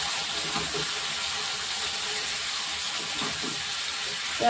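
A little water runs from a tap for rinsing, giving a steady close splashing hiss for a few seconds with faint clicks underneath and no talking.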